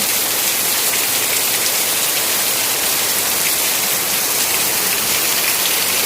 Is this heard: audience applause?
no